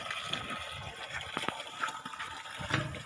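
Steady rushing and gushing of water pouring out of a pipe from a solar-powered submersible pump, continuous and fairly close, with a few splashy bursts.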